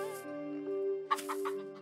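Chickens cluck in the video game Wandering Sword, a few short bursts of clucking over a sustained musical drone, fairly close and clear.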